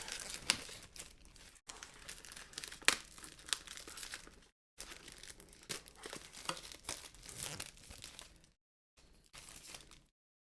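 Plastic wrap being torn and peeled off a Pixel 3 XL phone box, close and fairly quiet, with continuous crinkling and sharp crackles interrupted by brief silent gaps.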